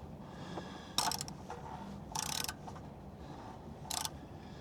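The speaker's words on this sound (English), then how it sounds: "I've locked up my ratchet now. May as well try to crack this open." A ratchet clicks in three short bursts while loosening the oil drain plug on a 2010 Lexus RX 350. The clicks are close and fairly quiet, separated by pauses, with no talking.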